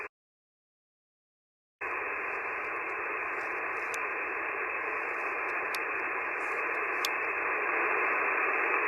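Broadband hiss from a radio receiver connected to a Mylar loop bike antenna jumps up abruptly after a short silence as the antenna is extended, then holds as a steady, loud static with faint intermittent ticks.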